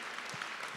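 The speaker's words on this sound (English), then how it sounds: "Let's get some applause." Audience applause for first responders who are guests at a live show, a short steady burst of clapping from a crowd heard alone at moderate level.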